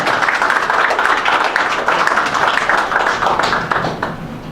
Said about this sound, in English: How about another big round of applause for Wes Iseli and Lana?